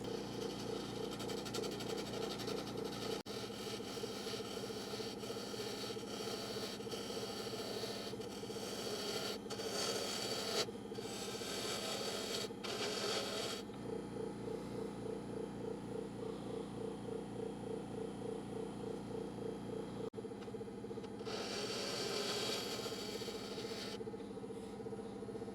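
Wood lathe cutting the foot off a large cherry burl bowl, a steady continuous scraping and rasping drone with a strong motor hum, shifting in texture as the tool bites and pauses, close and loud with no talk.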